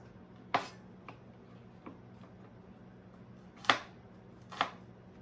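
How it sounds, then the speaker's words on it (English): A kitchen knife slices celery thinly on an angle, heard as a few sharp, widely spaced chops against a cutting board in a quiet room, with no talking. "let's get our celery chopped. We're going to kind of cut that fairly thin on an angle"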